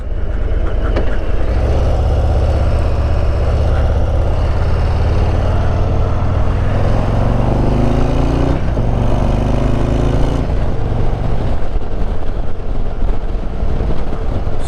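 A 2022 Harley-Davidson Road Glide ST with the 117 engine and stock exhaust rumbles loudly and steadily, a deep throbbing exhaust note that rises and falls through gear changes as it rides past close by.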